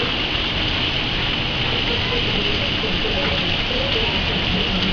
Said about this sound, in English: That was a good 10 to 15 minutes of heavy rain.